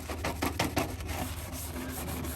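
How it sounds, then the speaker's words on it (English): A dish brush scrubbing the faded, flaking trim of an Airstream trailer, quick back-and-forth rubbing strokes close up, rhythmic at first and then a softer steady rasp. "this is just a dishes brush. And I'm getting down in this crack, back and forth"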